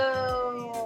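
A neighborhood cat gives one close, loud, drawn-out meow with a strong tonal wail, alone with no talking over it.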